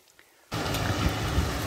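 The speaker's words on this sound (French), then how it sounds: "on arrive sous la pluie à Limogne en Quercy." Rain falls steadily while hiking a trail into Limogne-en-Quercy, a dense close hiss that starts suddenly after a quiet moment and continues without pause.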